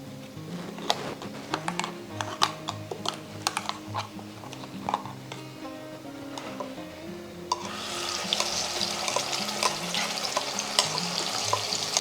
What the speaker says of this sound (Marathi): हा मसाला आपण तेलामध्ये छान खमंग असा परतून घेणार आहे